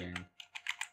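A brief voice gives way to four or five crisp computer keyboard keystrokes while Python code is typed, close and light in a quiet room.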